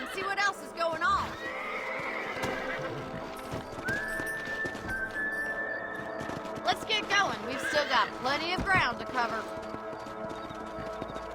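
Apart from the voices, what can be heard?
horses neighing and hooves in the video game Red Dead Redemption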